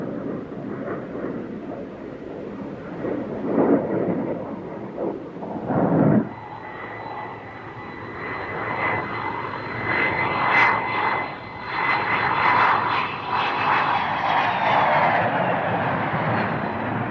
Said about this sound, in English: they finally got aircraft number one into the air